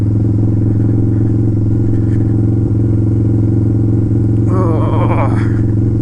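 Harley motorcycle riding a bumpy gravel road in a blizzard, its engine droning loud and constant with rattling clatter throughout and a brief scraping burst near the end.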